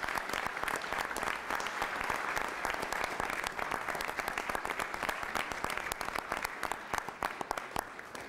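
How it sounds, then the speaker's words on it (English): Sustained applause from the audience at a city council meeting, a dense, even wash of many hands clapping for several seconds with no speech over it. "Let's give him a round of applause."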